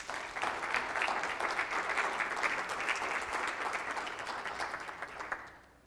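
Sustained applause from a seated audience welcoming a presenter at a teachers' event on classroom discourse, dense and steady for several seconds before tapering off at the end.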